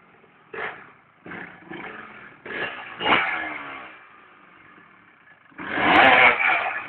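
A motorbike engine revving in several short bursts, then a longer louder rev near the end, rising and falling in pitch.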